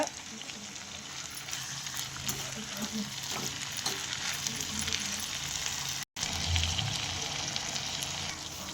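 Cluster bean stir-fry being stirred in a pan, a dense continuous sizzle with soft scraping of the spoon, close and moderate in level, briefly cutting out for an instant before resuming.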